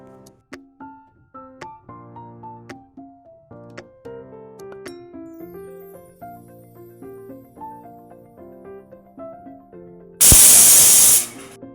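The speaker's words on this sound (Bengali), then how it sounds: "এবার মাটনগুলিকে প্রেশার কুকারে দিয়ে মোটামুটি দু তিনটে হুইসেল দিয়ে নিতে হবে" A pressure cooker cooking mutton in papaya gravy lets out one loud, sudden hiss of escaping steam lasting about a second near the end, after a stretch of soft background music.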